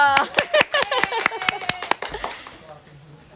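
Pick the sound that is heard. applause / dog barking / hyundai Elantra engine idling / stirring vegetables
applause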